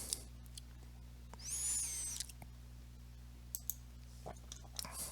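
Sparse, sharp mouse clicks, a few small separated taps over a quiet electrical hum, during software setup in a Unity asset store tutorial.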